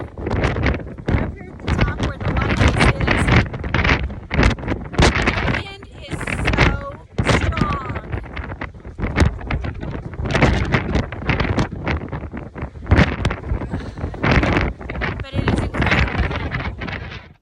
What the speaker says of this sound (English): you just can't hear me because of the wind.